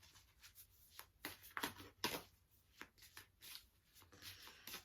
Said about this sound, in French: Je brasse pour mélanger ces cartes, qu'elles ne soient plus dans l'ordre